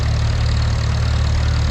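Vintage tractor, a W6 at a tractor pull practice day in Korumburra, its engine running at a steady, even idle with a low throbbing beat, loud and close, with no voices.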